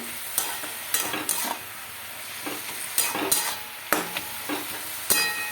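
Fenugreek greens being stirred in a pan, an irregular series of sharp spatula scrapes and knocks over a low sizzle, close and clear, with no voices.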